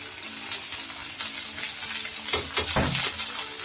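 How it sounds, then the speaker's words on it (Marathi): Peas and cauliflower frying in a pan for matar paneer, a dense close sizzle with brisk spatula stirring and a few louder scrapes near the end, no talk. "मी वटाणा आणि फ्लावर भाजून घेतलाय"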